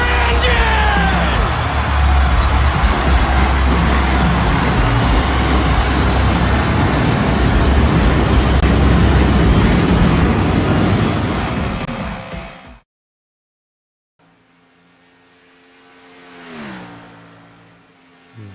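Racing car engines fire up and rev hard together, a loud sustained roar of several motors with pops, cutting abruptly to near silence before a single engine swells and fades briefly.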